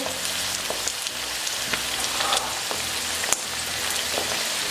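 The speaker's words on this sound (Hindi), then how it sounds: "अब इसमें 1 टेबल स्पून अदरक लहसुन का पेस्ट ऐड करेंगे।" Ginger garlic paste sizzles with frying onions in a pan for chana masala, a steady, loud, rain-like crackle that fills the whole moment with a few sharper pops.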